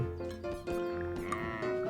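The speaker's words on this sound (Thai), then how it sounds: "ฆ่าอีพวกแกะบ้าพวกนี้ให้หมด" Sheep in the golf video game What the Golf bleat in short wavering cries, two or three close together, clear and fairly loud over a faint background.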